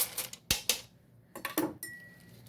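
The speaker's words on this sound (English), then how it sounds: "I'm going to mix this together." A few hard clattering scrapes and clinks in a bucket as ice and salt are mixed, in short separate bursts with quiet gaps.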